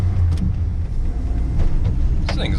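A rusty 1968 Dodge Charger with a non-synchronized transmission is driven, heard from inside as a loud, constant low engine and road rumble with brief rattles.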